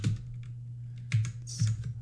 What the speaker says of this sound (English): let's type in the date